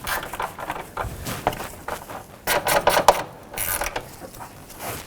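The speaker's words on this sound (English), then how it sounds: "You just want to get those bolts snug down and just give them that one little extra twist." Washer reservoir bolts on a 2006-11 Honda Civic being snugged down with a ratchet, giving close, loud bursts of rapid mechanical clicking separated by short pauses, with no talking.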